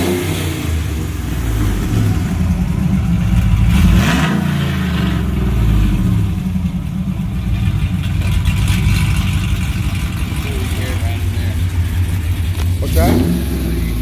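Cammed Ram pickup engine fitted with an electric exhaust cutout, rumbling loudly and steadily with a couple of revs swelling around four and thirteen seconds, voices talking over it throughout.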